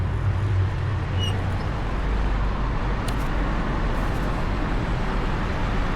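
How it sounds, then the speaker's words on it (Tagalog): Cars roll past on a road in hot summer weather in the Czech Republic, a steady, loud roadway rumble and hiss that holds throughout without a break, with no one speaking. "Padaanin muna natin itong mga sasakyan."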